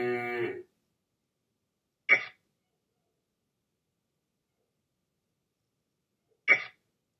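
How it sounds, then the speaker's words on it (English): A single short cow moo, followed by two brief, sharp vocal bursts separated by silence. "Cow."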